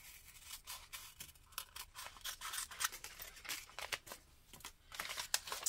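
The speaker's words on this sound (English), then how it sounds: "let's grab my scissors and cut her out of here." Scissors snipping through paper while trimming a bullet journal cutout, a series of close, crisp, irregular cuts with light crinkling between them and no talking.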